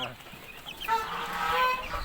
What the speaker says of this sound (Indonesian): Anak ayam siam ada 2 ekor nih